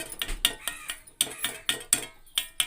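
Hardened sesame chikki syrup tapped against a pan gives a run of sharp, bright metallic clicks, about eight in under three seconds, close and clear with no talking.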